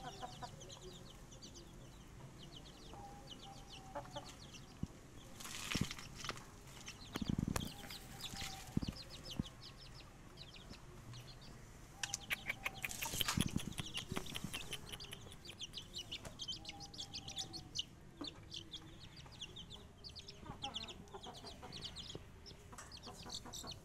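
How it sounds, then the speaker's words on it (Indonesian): Several five-month-old chickens cluck in a steady, scattered chatter, with occasional louder bursts of fowl calls nearby. "Ini ayam usia 5 bulan."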